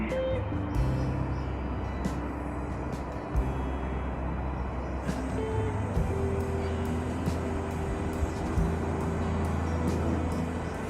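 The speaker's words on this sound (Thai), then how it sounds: "เสียงรถยนต์ มันใกล้กับทางฟรีเวย์ไหมพี่น้อง ทางออกไปสนามบินเมลเบิร์นะ" Steady car traffic hums from a nearby freeway leading toward Melbourne airport, a continuous low rumble with occasional passing vehicles rising and fading, with no talking over it.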